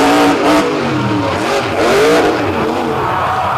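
A monster truck engine revving hard at a beach show, loud and close, with rising and falling throttle sweeps and a rough, throaty roar that holds through the whole stretch.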